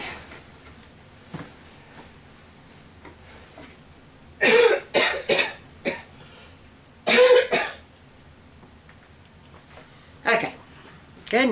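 Several loud, close coughs in bursts, a pair around the middle and another later, with quiet kitchen shuffling between them.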